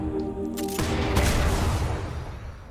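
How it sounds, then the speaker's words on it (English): Jhin's ultimate in League of Legends fires a rapid cluster of loud, booming gunshots in quick succession, each blast decaying into a lingering rumble. "When you use the cone, you can shoot again 4 shots"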